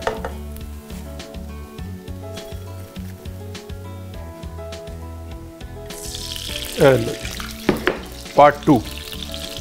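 Bread frying in ghee in a pan for bread halwa, heard as a crackling sizzle under rhythmic low knocking and scraping, which grows louder and busier in the final seconds; a voice speaks briefly.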